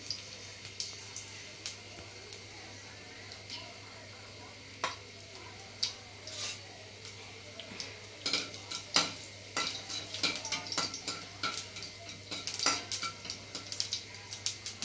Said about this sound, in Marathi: मोहरीला कड आला, आपण आता हिरवी मिरची टाकू